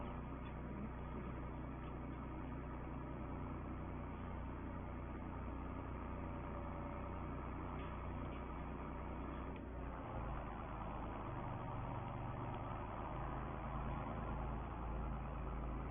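Farm tractor used for carting sugar beet, a steady low engine rumble idling close by, continuous and even throughout with slight shifts in tone near the middle.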